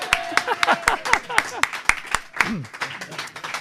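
A small group gives Darren a round of applause at an accountancy firm's chat event, sharp separate claps in a quick rhythm with people talking and whooping over them.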